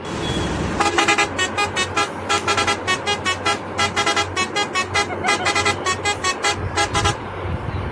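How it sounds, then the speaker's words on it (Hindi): A vehicle horn plays a rapid rhythmic musical pattern of many short toots, loud and close, over a low engine rumble. "एक भैया आए, उन्होंने हॉर्न बजाया इतना प्यारा"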